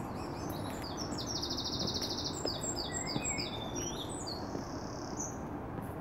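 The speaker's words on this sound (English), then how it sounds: "Birds singing." Birds sing outdoors in fair weather, with rapid trilling chirps and high whistled phrases ringing above a steady broadband hiss of wind or distant traffic.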